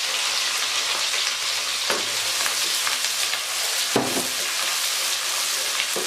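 Onions fry in hot oil with cumin seeds in a pan for chana pulao, a steady close sizzle broken by a couple of sharp stirring clacks, with no talking.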